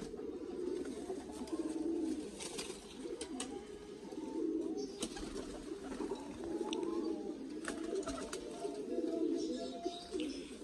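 Pigeons coo repeatedly in soft, rolling bursts close by, with faint rustling and shuffling sounds in the background.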